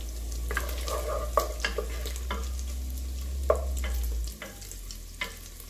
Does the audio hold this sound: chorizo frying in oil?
yes